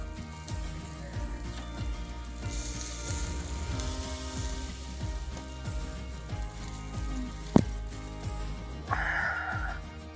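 Fish frying on an outdoor braai grill, a steady close sizzle and crackle running throughout with small pops, louder hiss bursts near the middle and a sharp knock toward the end.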